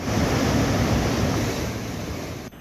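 Floodwater of the swollen Betwa river rushing after heavy rain and overflowing dams, a loud, steady roar of churning water, close and unbroken, that cuts off abruptly at the end.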